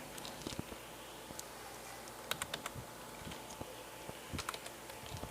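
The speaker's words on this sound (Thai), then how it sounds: "นี่ก็เป็นแป้นพิมพ์ของพี่ผมนะ" Typing on a computer keyboard sounds as faint, scattered keystrokes in irregular clusters over a low background hum, with no speech.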